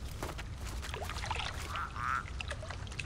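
A duck in the horror video game The Cursed Forest, two or three quacks rising near the end over steady swampy ambience and faint splashing.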